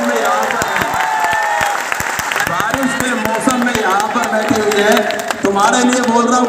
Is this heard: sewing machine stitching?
no